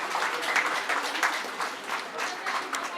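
Audience applause at a Nepali Christian wedding ceremony, steady dense clapping from a gathered crowd lasting the whole stretch, fairly close and even in loudness.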